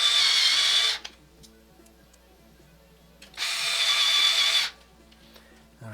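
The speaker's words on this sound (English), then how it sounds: "now I'll start putting these screws back in" A power drill drives screws into a be quiet! Silent Base 802 PC case: two steady high-pitched whirring bursts of about a second each, close by, separated by a quiet pause with faint handling clicks.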